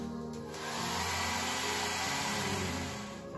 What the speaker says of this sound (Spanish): en la medida de lo posible aceleraríamos el proceso de secado del acrílico con el secador de pelo